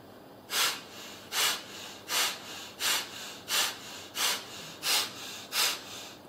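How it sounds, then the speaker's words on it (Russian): Pranayama belly breathing demonstrated during a 2009 Kiev yoga session: about eight strong, evenly spaced breaths rushing in and out, close and clear, with no talking. "Дыхание животом."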